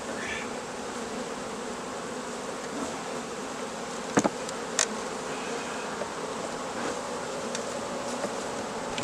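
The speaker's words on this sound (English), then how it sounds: "that's where the bees are clustering" A dense, steady buzz of many honeybees clustering in a tight hive box fills the space, close and continuous, with a couple of brief sharp knocks partway through.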